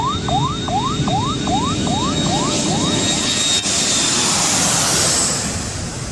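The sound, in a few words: airplanes landing and taking off at busy runway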